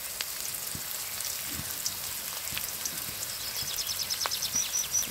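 Chopped onion and garlic fry in soybean oil with a faint, even, rain-like sizzle and scattered small pops.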